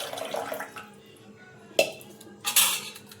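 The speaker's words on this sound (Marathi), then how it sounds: "मी थोडं पाणी ॲड करत आहे।" Water poured into a pot of spicy peanut amti in a home kitchen, heard as short splashy bursts with a metallic clink of the pot, fairly close and without talk.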